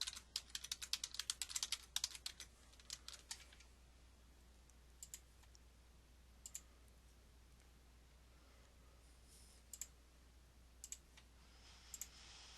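Fast, quiet keystrokes on a computer keyboard come in a dense burst at first, then thin out into sparse, scattered clicks and short runs of typing.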